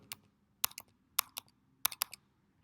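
Keys on a computer keyboard are tapped to enter a number at a loyalty points checkout, with quick clusters of close, crisp clicks separated by short pauses.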